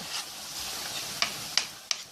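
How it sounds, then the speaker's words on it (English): Marinated ingredients for cornbread chicken dressing sizzle steadily in a hot pan while a utensil stirs, with three sharp ticks or taps of metal near the end. "everything is marinated, sizzling, smells great"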